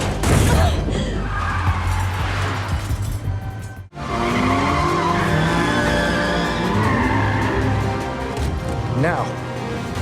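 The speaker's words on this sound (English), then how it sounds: "when we get later on in the car sequence, we're talking about dragging cars around" Cars skid and drag during a chase sequence in the film F9, with loud, sustained tire squeals and grinding scrapes over roaring engines, broken by one sharp impact-like cut midway.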